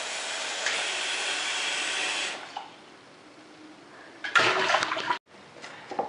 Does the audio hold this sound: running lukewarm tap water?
yes